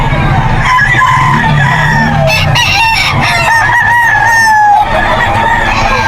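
A young rooster (stag) at a Bocaue pet market crows loudly and close, with other chickens clucking and calling in a dense, noisy background.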